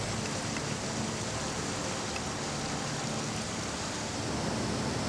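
Steady, dense rush of heavy tropical rain on Cocos Island, continuous and loud throughout with no breaks or voices.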